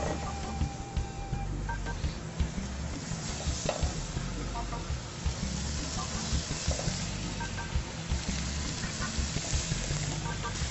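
Fatty meat searing in a very hot, dry pan in a restaurant kitchen, a steady loud sizzle with crackles and spatters throughout and scraping stirs on top, barely any talk.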